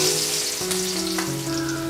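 Garlic, mustard seeds and cumin frying in hot oil in a home kitchen, a steady close sizzle with crackling pops throughout, some low steady tones beneath.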